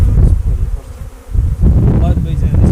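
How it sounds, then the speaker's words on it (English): A dense swarm of honeybees buzzing loudly and close as they are blown out of a hive box, the drone rising and dipping under a gusty blower-like rush. "Now what we're going to do is we're going to blow the bees out of this box."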